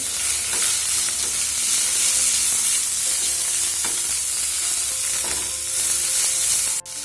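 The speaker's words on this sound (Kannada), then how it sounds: "ಈ ಪುದೀನ ಮತ್ತು ಕೊತ್ತಂಬರಿ ಸೊಪ್ಪು ಹಸಿ ವಾಸನೆ ಹೋಗುವ ತನಕ ಚೆನ್ನಾಗಿ ಫ್ರೈ ಆಗಬೇಕಿದು" Mint and coriander leaves fry in a hot pan for a Mangalore-style horse gram chutney, giving a loud, continuous close-up sizzle with occasional stirring clinks and a sharp knock near the end.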